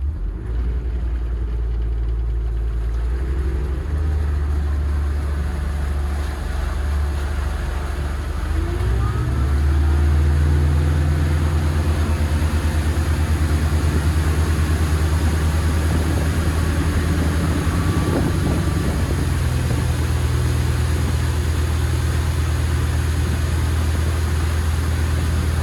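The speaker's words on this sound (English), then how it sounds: "We'll put it on plane and bring it up to cruising speed." A Doral Monticello boat with a Volvo Penta KAD300 285 hp engine accelerates onto plane, its deep engine drone rising and thickening midway, then holding a steady loud roar with rushing water noise.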